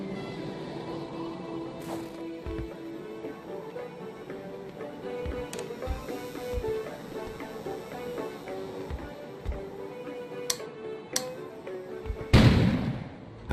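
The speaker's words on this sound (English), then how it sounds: "An explosion suddenly occurred outside." Distant explosions and booms outside in the game Kona, heard as scattered low thuds over a steady ambient hum, ending with a louder, broader blast near the close.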